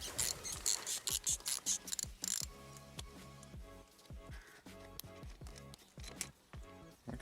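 Ratchet undoing a T30 Torx screw on top of a Vauxhall Astra 1.7 CDTI fuel filter housing, with rapid clicking bursts at first, then slower, steadier clicks of the pawl, close up and alone.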